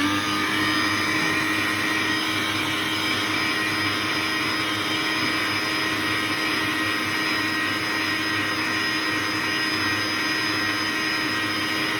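An Ariete Classica planetary stand mixer runs at a raised speed while mixing pancake batter, giving a steady, loud motor whir that holds unchanged throughout with no talking.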